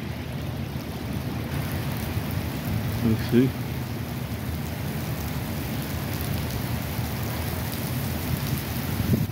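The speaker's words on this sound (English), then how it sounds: "Oh, here comes the rain." Steady storm rain pattering down in a constant hiss, with a low rumble beneath and a voice speaking briefly partway through.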